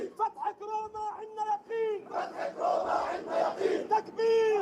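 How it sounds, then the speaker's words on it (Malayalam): A large crowd chants loudly in unison, answering takbir calls with rising and falling shouted phrases and a prominent leading voice in between. "തക്ബീർ വിളികളോടെ വലിയൊരു ജനക്കൂട്ടം ഉച്ചത്തിൽ ഏറ്റുപറയുന്നത് വീഡിയോയിൽ വ്യക്തമാണ്"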